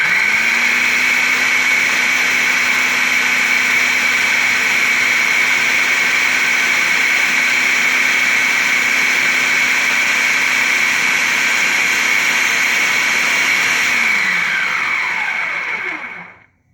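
An electric mixer whirs steadily at a constant pitch while blending graham cracker crumbs with melted margarine for a coconut cream pie crust, loud and close with no talk, then winds down and stops near the end.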